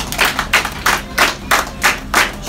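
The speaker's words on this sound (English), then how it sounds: "Everybody clap your hands!" Family members clapping their hands together at a home birthday celebration, sharp bursts in a steady, even rhythm of about two claps per second, close and lively with no talking.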